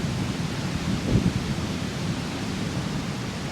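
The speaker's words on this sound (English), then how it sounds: "Got a real nasty looking thunderstorm coming in." Deep thunder rolls from an approaching thunderstorm over a house, swelling briefly to a low rumble midway through a steady wash of wind and rain-like noise.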